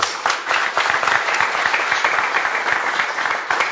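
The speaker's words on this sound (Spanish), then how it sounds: "Yo quisiera que diéramos un fuerte aplauso a los tres." A crowd at an outdoor event handing over farm machinery to agricultural committees claps loudly and continuously. The applause is close, dense and steady from start to finish.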